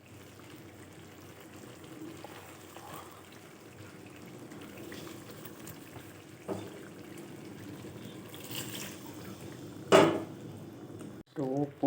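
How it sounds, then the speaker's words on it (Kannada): Salt and a little water go into a pot of Karnataka-style stuffed eggplant curry, with soft utensil clinks and light kitchen clatter, then a brief louder pour and clanks near the end, all fairly quiet. "ಉಪ್ಪು ಸ್ವಲ್ಪ ನೀರು ಹಾಕ್ತಿದ್ದೀವಿ"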